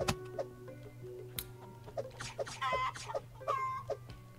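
Chicken clucking in a video game, a series of short squawks and clucks over a steady game backdrop with low hum, several bursts spread across the stretch, moderately loud.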